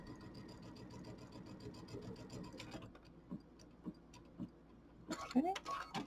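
A home sewing machine stitches a quilt seam while piecing a Kimberbell mini quilt, a steady mechanical whir for the first half that falls to fainter, broken running with clicks, and a voice briefly heard near the end.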